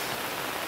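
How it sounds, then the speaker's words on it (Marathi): Heavy rain pouring during a monsoon trek on a hillside, a dense, even broadband hiss with no breaks, steady and moderately faint, with no voices. "पाऊस खूप जोरदार लागलेला आहे."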